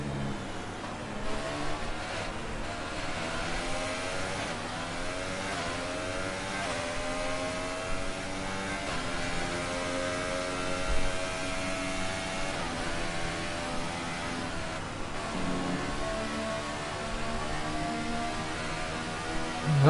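Engines roar steadily from racing cars in the Formula 1 2018 video game as a McLaren passes a Mercedes, with continuous loud whining revs that shift pitch throughout and no talking.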